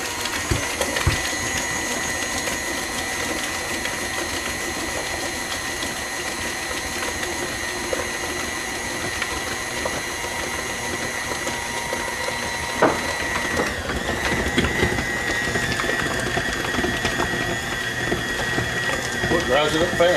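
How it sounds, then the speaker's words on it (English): An electric stand mixer runs steadily while beating cheesecake batter with eggs and dry ingredients, a continuous mechanical whir with a slight shift in tone partway through as ingredients go in. "So let's get our mixer going again."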